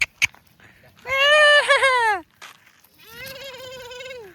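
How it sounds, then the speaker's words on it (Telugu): A goat on a farm gives two loud, wavering bleats, the first long and strong, the second slightly softer after a short pause, with brief clicks before them. "ఇది ఒక మేక"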